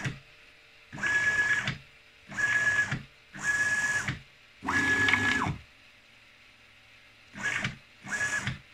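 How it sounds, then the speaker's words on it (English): A CNC machine's stepper motors, driven by a Mach3 USB controller, whine and buzz in six separate bursts of movement, four evenly spaced and then two shorter ones, each stopping cleanly with quiet pauses between. "I was going to show you the motor"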